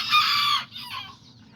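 A hen clucking beside a rooster among backyard chickens, a short loud squawking cluck followed by softer low clucks, heard close and alone.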